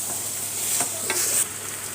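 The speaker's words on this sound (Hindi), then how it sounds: "मैं ये कुकर में बना रही हूँ इसलिए मैं आलू अभी डाल रही हूँ" Potatoes are stirred into keema frying in a pressure cooker, giving a steady close sizzle with a few scraping stirs over a short stretch, no voices.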